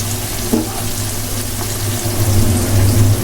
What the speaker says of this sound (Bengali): আমার যেহেতু এক কেজি ডাল এখানে আমি এটা এখন ঢেলে দিব এর ভিতরে